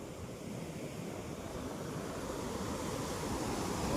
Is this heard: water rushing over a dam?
yes